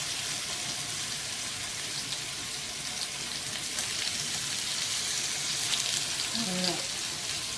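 Pork chops sear in a hot, oiled pan with a steady, dense sizzle and crackle that hisses without pause, with a brief clink of utensils near the end.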